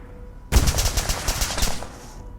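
Automatic gunfire erupts in the military video game Arma 3, a loud, rapid burst of shots that starts abruptly and fades out near the end, with no talking.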